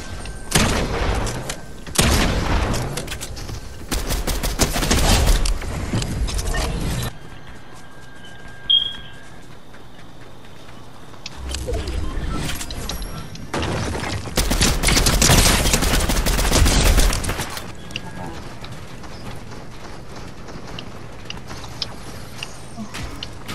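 Bursts of rapid automatic gunfire in the video game Fortnite, several loud sustained volleys separated by quieter stretches of game ambience and a lone shot, with faint voices chatting underneath.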